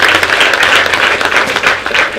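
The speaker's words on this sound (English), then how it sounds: "Please clap for Barbara as she comes in." Students at a girls' secondary school clapping as a guest enters a training session, a steady, dense wash of applause from a nearby group lasting a couple of seconds without pause.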